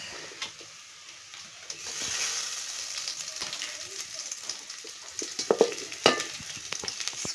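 Garlic frying in a pan for homemade ketchup, a soft steady sizzle with scraping and clinking of the spoon as it is stirred, the stirring growing busier toward the end.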